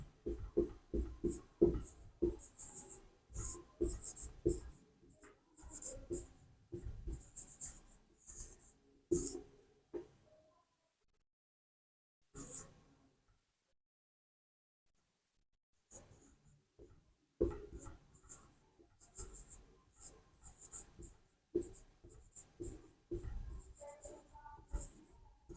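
Pen scratching out notes during a class 10 geography lesson, in quick uneven strokes with a few quiet pauses, faint and close.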